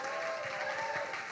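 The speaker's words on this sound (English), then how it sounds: "so give them a huge round of applause" An audience at a live show in Brooklyn claps in a dense, steady wash of applause that carries evenly through the short stretch, with a faint background voice.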